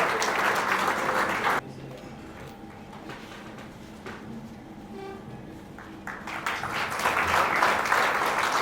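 Loud crowd applause and cheering at a real estate project launch event in Patna fill the start, drop away into quieter room noise and murmuring, then swell back up near the end.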